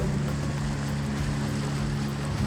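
Steady low engine drone of a boat out on a lake in Ooty, with water rushing under the hull and a continuous loud rumble throughout.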